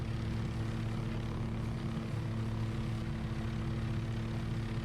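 An OH-6A light helicopter in Microsoft Flight Simulator 2024 gives off a steady turbine whine and rotor drone, a constant even engine hum that stays level for the whole stretch with no voices.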